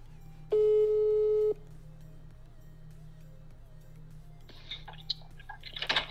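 A telephone call tone sounds once as a loud, steady one-second beep, followed by quiet line hum and faint clicks and rustles as the call waits to connect.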